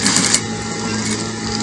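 Sewing machine stitching a folded hem on a peplum dress, a close, steady whirring hum with rapid needle ticking, loud and continuous from start to end.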